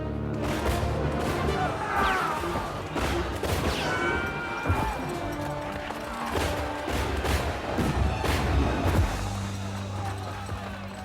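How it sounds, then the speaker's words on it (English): Muskets fired in ranks on a shouted command, a dense run of loud cracking bangs and crashes that overlap for several seconds, with voices mixed in under the volleys. "Fire your muskets!"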